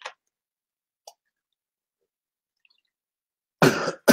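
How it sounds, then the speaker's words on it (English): Two short bursts at the end, harsh and broadband, a close cough after long near-silence broken by a couple of faint ticks. "I'm going to cough anyway."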